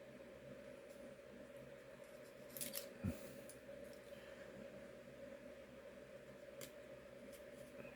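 Scissors trim aluminum tape used to skin bomb bay doors, giving a couple of quick, close snips against a quiet background.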